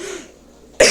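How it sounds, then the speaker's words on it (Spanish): Someone speaking at a public presentation lets out a single sharp, loud cough near the end, after a stretch of quiet room tone. "tengo una tos terrible"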